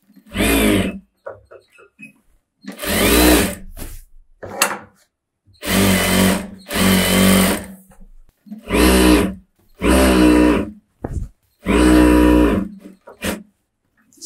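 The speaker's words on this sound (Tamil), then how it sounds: "ஒரு கால் இன்ச்சு விட்டுட்டு சுற்றி தையல் போட்டுக்கோங்க." An electric sewing machine stitches around chudithar lining in separate loud bursts of rapid needle chatter, each lasting about a second and broken by short pauses, with a voice speaking faintly between runs.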